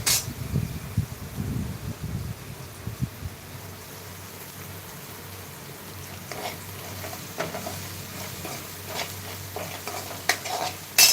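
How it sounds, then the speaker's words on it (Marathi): Ingredients for moong dal varan are sautéed in a pan, giving a soft, continuous sizzle with faint scraping and stirring, steady and fairly quiet, with no talking. "तर आता हे छान परतले"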